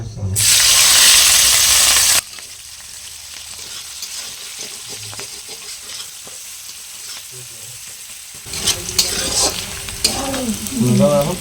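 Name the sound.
chopped green chili, onion and crushed garlic frying in oil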